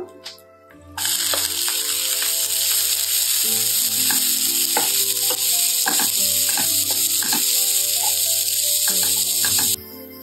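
Cumin, curry leaves, fenugreek seeds and finely chopped onion sizzle loudly in hot oil in a pan for a brinjal masala, a steady bright frying hiss with small crackles and pops throughout, close and without talk.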